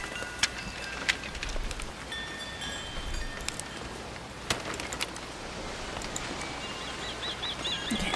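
Rain falling in the video game Mystery Case Files: Escape From Ravenhearst, a steady soft wash of rainfall with occasional faint chirps and clicks, no voices present.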